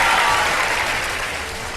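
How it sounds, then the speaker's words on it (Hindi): Studio audience at a Pakistani Ramadan quiz show applauding, a dense, steady wash of clapping that fades slightly toward the end, with no voices over it. "जरा भरपूर तालियों में एक दफा में बता दीजिए कि आप सब इस मुकाबले में हैं।"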